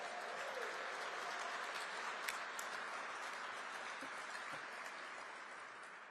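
Conference audience at a transportation summit for the 2026 World Cup claps steadily in a broad, continuous roll of applause, fairly quiet overall and fading slightly toward the end, with occasional louder individual claps.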